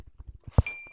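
Hooves of a horse in Minecraft clop a few times in a quick, light rhythm, followed by one louder thud and a thin, fading tone, all fairly close and without talk.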